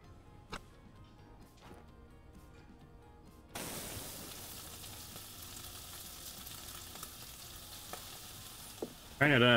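Food sizzles in a frying pan in the Chef Life restaurant simulator. A steady hiss starts partway through and keeps going, with a short clatter at the end.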